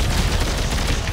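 Gunfire from the video game Dead Space 3 rattles in a dense, continuous burst, loud and close, with the rapid shots running together into a harsh crackling roar.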